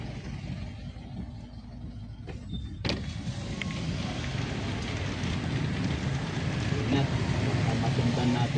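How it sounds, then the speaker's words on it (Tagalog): A sudden heavy downpour pours down outdoors as a steady, dense hiss that swells and thickens after a couple of seconds, with a few sharp knocks near the start. "Biglang buhos yung ulan guys."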